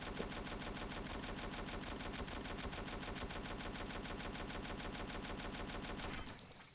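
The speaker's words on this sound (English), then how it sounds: "It's the first proper vehicle we've seen that has a gun." Rapid, steady automatic fire from a vehicle-mounted gun in the game War Tycoon, a dense machine-gun rattle that runs loud and unbroken for about six seconds before cutting off.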